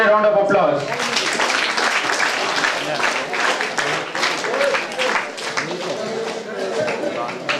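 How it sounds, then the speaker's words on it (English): An audience at an NCC training closing ceremony applauds an award recipient with sustained, moderately loud crowd clapping, while a voice talks over it through the middle and end. "All rounder, give her a round of applause."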